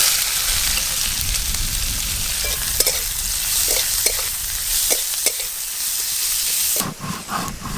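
Spices with asafoetida and chopped onion frying in oil, a loud dense sizzle and hiss with scattered stirring taps, ending in a burst of sharper scraping.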